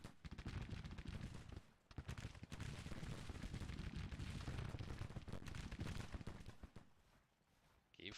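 Massed troops fire guns in a strategy video game battle between four armies, a dense, sustained roar of overlapping rifle volleys and booms with a brief lull near two seconds and a fade toward the end.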